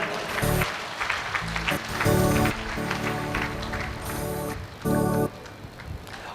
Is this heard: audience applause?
yes